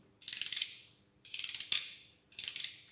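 Three bursts of rapid ratcheting clicks, each about half a second long, with short pauses between them, as the spring of a clockwork toy train is wound up close by.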